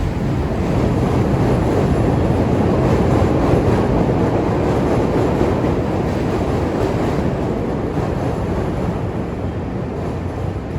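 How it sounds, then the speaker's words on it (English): A train rumbles past on the tracks in Chicago, a loud, close, continuous roar of wheels and cars lasting the whole stretch, easing off slightly near the end, with no voices over it. "oh, train."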